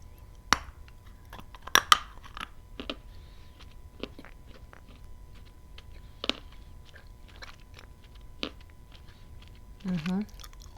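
Someone bites and chews a waxy, plasticine-like food sample, giving a few sharp crunchy bites and soft chewing clicks between quiet pauses, with a brief vocal sound near the end.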